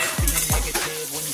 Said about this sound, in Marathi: आता आपण छान मिरची भाजी टाकायचंय, तो पण छान भाजून घ्यायचंय।